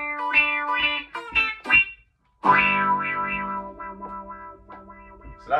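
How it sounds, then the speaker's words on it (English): Clean electric guitar on the bridge pickup played through a Morley Classic wah pedal, a few plucked notes then a sustained strummed chord with sweeping vowel-like wah tone, close and clear, after a brief silent gap. "Cool, bridge position with the wah."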